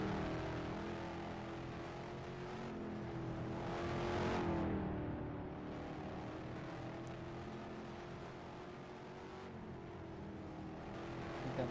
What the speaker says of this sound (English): That sounded like a car just about spinning out.